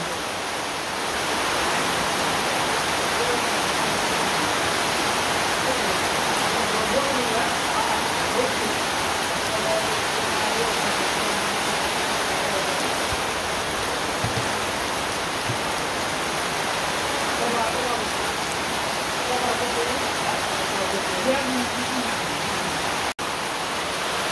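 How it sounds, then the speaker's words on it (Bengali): Heavy rain pouring down steadily and loudly, a dense unbroken roar of drops on surfaces nearby, with no pauses and no talking. "কি পরিমাণ বৃষ্টি দেখেন এত বৃষ্টি বাবা রে বৃষ্টি অবস্থা খারাপ একবারে"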